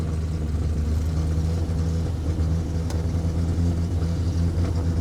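A 1960 Triumph Herald engine running after sitting for 42 years, a steady low idle with a rhythmic rumble and no talk over it.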